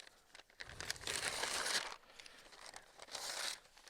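Paper grocery bags being ripped and shredded into bedding for a worm bin, giving two fairly quiet bursts of crinkling and tearing separated by a short pause.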